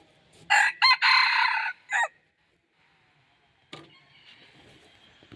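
A rooster crows loudly nearby in one long call, followed by quiet and a fainter second call starting later.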